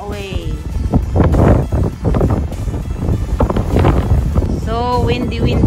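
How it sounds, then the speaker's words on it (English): Strong wind buffets the microphone with a steady roar throughout, while a voice speaks over it. "Very timely, the wind is so strong."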